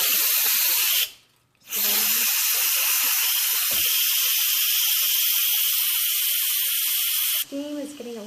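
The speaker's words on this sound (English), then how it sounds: "I'm going to release the rest of the steam here." Steam hissing loudly and steadily from a pressure cooker's release valve while it cooks a pot roast. The hiss is close and continuous, breaks off briefly near the start, and is then joined at the end by a short voice.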